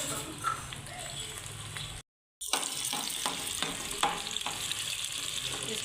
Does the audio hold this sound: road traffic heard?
no